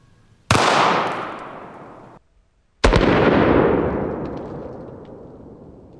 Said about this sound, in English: I'm gonna shoot this one literally at point blank range because I don't want to risk messing it up.